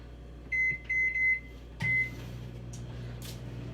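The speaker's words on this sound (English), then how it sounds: "I'm gonna start my microwave" A microwave oven beeps four times as its buttons are pressed, then starts with a click and a steady low hum, close by in a quiet kitchen.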